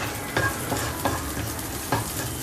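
Cumin, green chilli and black pepper fry in hot oil for lemon rice, a dense steady sizzle close up, punctuated every half second or so by the scrape of a stirring spoon.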